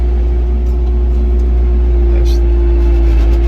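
A Kioti RX 7320 tractor engine drones steadily and loudly up close as it drives, with a constant low hum and a slight shift in tone partway through.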